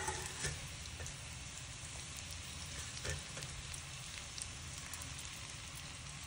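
Onions, cashews, ginger, garlic and dried chilies fry in a hot pan, making a steady, soft sizzle with faint crackles and occasional light stirring clicks, quiet and alone.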